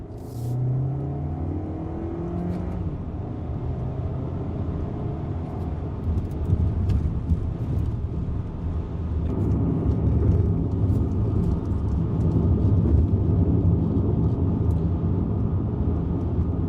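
A VW Tiguan Trendline TSI with a DSG gearbox is floored on an Australian country road, its engine droning steadily and rising as it accelerates, heard from inside the cabin with road rumble and no talking.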